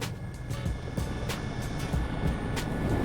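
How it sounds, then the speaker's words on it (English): Helicopter of a Norfolk company on the ground with rotors turning, a steady loud engine roar pierced by rapid regular blade-slap pulses, with no talk. "they face the aircraft with the rotors turning and the downdraft"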